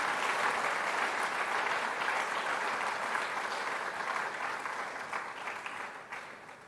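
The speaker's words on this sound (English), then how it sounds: "I'll still wait for you to clap for them" An audience at the launch of the Publishing Studies Programme's 40th anniversary applauds the planning committee with sustained, dense clapping that holds steady and then gradually fades.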